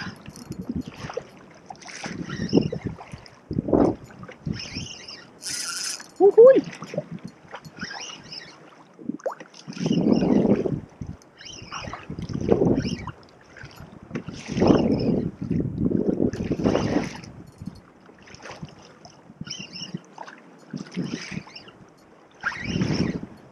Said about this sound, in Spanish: Estamos en mar abierto, estamos como a 12 kilómetros de la costa.